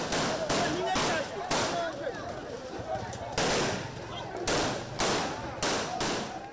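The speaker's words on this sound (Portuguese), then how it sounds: "A polícia fez disparos de advertência durante o desmantelamento de barricadas que bloquearam as estradas próximas da capital." Police firing warning shots while clearing road barricades near the capital of São Tomé, a series of sharp cracks at irregular intervals that sound moderately distant, with a reporter's voice talking over them.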